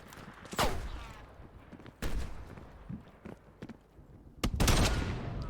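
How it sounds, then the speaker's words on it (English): Gunfire in Call of Duty Cold War, sharp loud shots and short bursts spaced unevenly across the span, with rattling impacts and movement noise between them. "They're shooting at us!"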